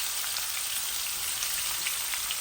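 Grated onion dropped into hot oil with reddened garam masala spices, giving a steady, dense crackling sizzle close by with no talk.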